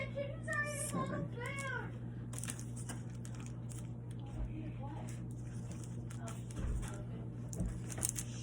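A kitten in a home kitchen gives a few rising and falling meows near the start. A steady low hum, soft clatter and scattered household noises fill the rest.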